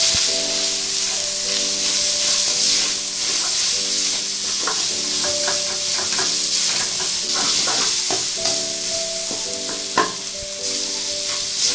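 Shark pieces being stirred with turmeric and spices in a pan, Sri Lankan style, with steady sizzling and frying under repeated scraping and stirring clatter, close and continuous, no talking.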